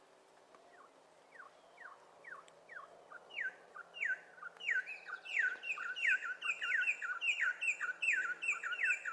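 A New World wren pair sings a duet: rapid repeated bright phrases, first a series of evenly spaced rising notes, then denser alternating trills from both birds building in loudness, clear and fairly close.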